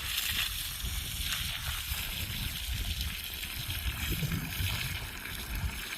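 Water gushing steadily from a newly drilled garden borehole, a continuous loud splashing and sloshing flow that fills the whole stretch without pause.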